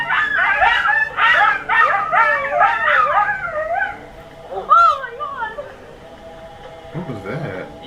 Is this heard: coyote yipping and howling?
yes